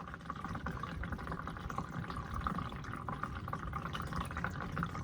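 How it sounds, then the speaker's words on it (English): Water pouring out of a car engine during a DIY engine removal, a faint, steady trickling and splashing that runs continuously without pause and with no talking. "it's just water pouring out"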